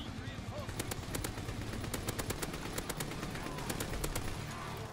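Rapid Tommy gun fire in Call of Duty WW2 Hordepoint mode, a steady run of sharp shots in two quick bursts over a busy game background, with talk mixed in.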